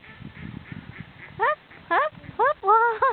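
Ducks quacking close by, five loud nasal quacks coming in quick succession after a stretch of low rustling and muffled background noise.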